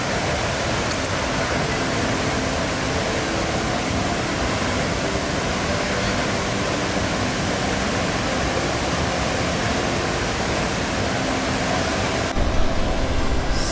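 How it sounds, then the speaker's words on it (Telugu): Athirapally waterfall in Kerala, a broad roar of rushing, crashing water that stays loud and unbroken throughout, with a brief rustle near the end and no talking. "చూసారు కదా ఫాల్స్ ఎట్లా ఉన్నాయో"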